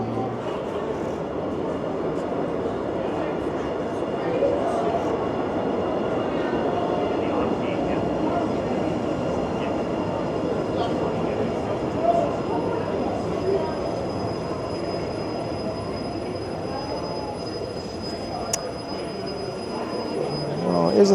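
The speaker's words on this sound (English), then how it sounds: "Oh, I think I hear a train." A Toronto Line 6 Finch West LRT train pulls into a station, giving a steady rolling rumble and a thin wheel squeal that run for the full stretch at moderate loudness, with faint station ambience and no talking.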